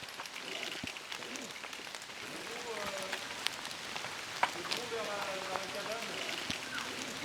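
Rain falls steadily in a Black Forest woodland, a dense patter of drops on leaves and surfaces with occasional sharper ticks, heard close and continuous while people talk quietly nearby.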